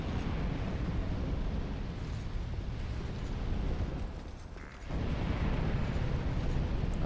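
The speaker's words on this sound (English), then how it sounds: "So if I attack them, they explode." Enemies exploding when struck in Dark Souls 2: a dense, rumbling blast roars loudly for several seconds, dips briefly, then surges again. No one talks.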